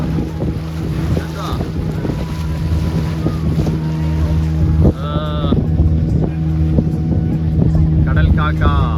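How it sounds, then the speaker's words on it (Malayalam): A motorboat's engine drones steadily on the choppy sea off Dolphin Point, Goa, with wind rushing past and brief voices and high calls breaking through the loud hum. "ബോട്ടിന് ചെറിയൊരു ചാഞ്ചാട്ടം തുടങ്ങി."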